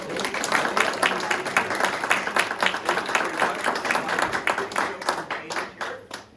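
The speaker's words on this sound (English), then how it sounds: "Let's have a round of applause." An audience at a holiday stage production applauds a pre-show musician, with distinct individual claps in a lively round that gradually softens.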